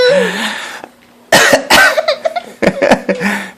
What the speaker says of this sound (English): it's really hilarious when Daddy coughs.